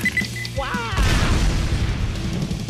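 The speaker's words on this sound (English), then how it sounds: "It was an actual grenade." A grenade blasts in an animated SMG4 cartoon food war, a loud close boom that bursts in after a short electronic tone and rolls on as a rumbling roar to the end.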